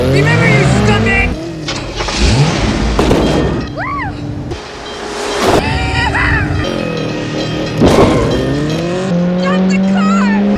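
A car speeds toward and across a lifting bridge in a thriller movie, its engine roaring and tires squealing loudly amid crashing booms, dramatic music and shouting voices throughout.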